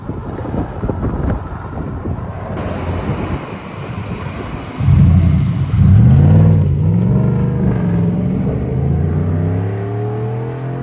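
Wind buffets the microphone, then the deep 5.0L V8 of a 2025 Ford F-150 with a Dynomax Race Bullet exhaust roars up and revs hard, its rumbling pitch climbing as the truck accelerates away.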